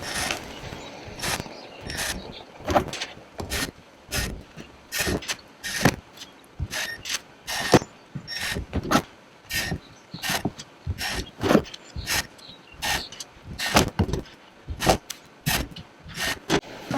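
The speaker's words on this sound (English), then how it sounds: "I'm gonna finish kit A here with the remainder of all my screws, including the sides, or sides and the bottom." Screws are driven into the sides and bottom of a BlackPak Pro case in a repeated series of short, sharp bursts with brief gaps between them, a quiet close-up ratcheting whir with clicks and knocks, with no talking.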